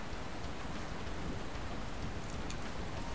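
Soft, steady rain hiss fills the Pokémon Alpha Sapphire game scene, a faint broadband patter with no voices.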